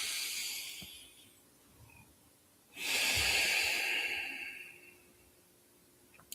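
Slow nasal breathing during a guided morning meditation: a soft, airy inhale followed after a pause by a louder, longer hissing exhale through the nose, close and alone with no talk.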